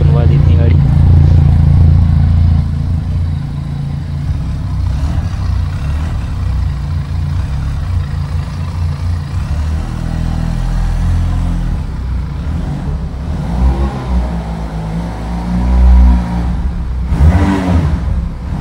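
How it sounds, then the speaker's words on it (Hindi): A Benelli TRK 502X touring motorcycle idles with a steady low engine rumble, then the throttle blips a few times in short revs, heard close up with someone talking over it. "एक बार साउंड सुनवा देते हैं गाड़ी।"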